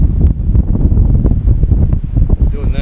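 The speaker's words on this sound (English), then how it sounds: "I'm sure you can hear all the wind noise right now." Strong wind buffets the microphone on the Charouleau Gap off-road trail, producing a loud, close, rumbling roar with uneven gusts throughout.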